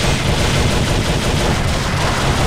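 Sustained rapid gunfire from a Glock 19 with an extended magazine in a video game, a dense, loud, unbroken volley of shots with no voices over it.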